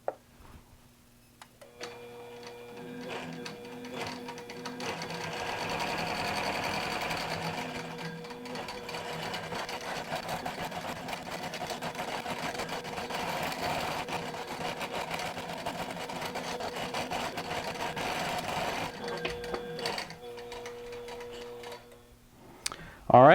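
A QBOT V3 quilting machine stitches an overlay quilt pattern, a steady rapid mechanical needle chatter that runs for about twenty seconds at close range, starting and stopping cleanly with no talk.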